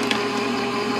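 A Gemini Junior die-cutting machine runs a hot foil plate and die through with a steady, close mechanical whir that holds even for the whole brief moment.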